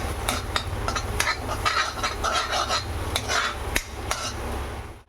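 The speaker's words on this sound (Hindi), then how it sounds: "इस तरह से ना इसको अच्छे से मैश करके इसको मसाले में ही मिक्स कर लो।" Cooked rajma being mashed and stirred into masala in a pan, with repeated sharp metallic clacks of a utensil striking the pan over a steady scraping, squelching mix.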